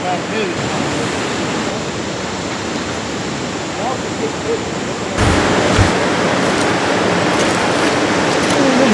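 Continuous rushing water, broad and steady like a flowing river, growing a bit louder partway through, with a soft low bump or two.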